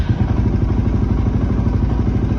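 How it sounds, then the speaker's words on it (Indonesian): A motorcycle engine, newly fitted with a Tune boss ECU, fires up on its electric starter and settles into a steady, loud, close idle with a rhythmic low thumping. "Enak, motor starterannya mau."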